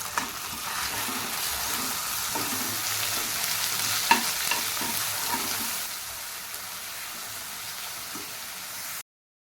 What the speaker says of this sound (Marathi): अर्धा चमचा आलं आणि लसूण पेस्ट टाकूया हे सर्व मिक्स करून घेऊया